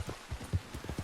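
Horse hooves clip-clopping in Red Dead Redemption 2, a quick, even run of soft, hollow thuds at a trotting pace over about a second, moderately close and alone.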